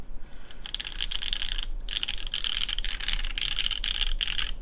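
Fast typing on a wooden-cased Bakeneko65 mechanical keyboard, a dense, steady patter of clacky keystrokes up close with brief pauses between bursts.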